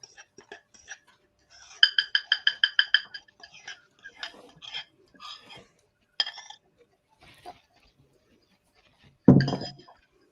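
A spoon clinks rhythmically against a bowl while stirring cookie bar mixture, a quick run of about eight bright taps followed by scattered lighter clinks and a louder knock near the end, close by with soft background murmurs.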